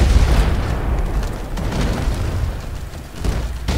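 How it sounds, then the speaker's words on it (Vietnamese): Cannon fire in the Roblox game Pirate Clash during a pirate ship battle gives a loud, rumbling run of booming blasts and explosions, with brief pops that break through the dense roar. "Tập này là phải bắn đại bác."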